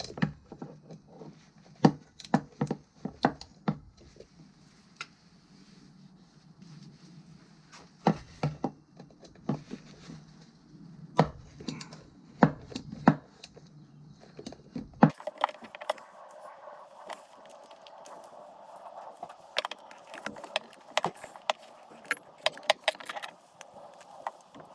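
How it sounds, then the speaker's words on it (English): Screws being worked out of a BMW F800GT motorcycle in a garage during a spark plug change, with irregular metallic clicks, taps and small clatters from tools at close range, sporadic bursts scattered over a quiet background. "let's try to remove those screws out there"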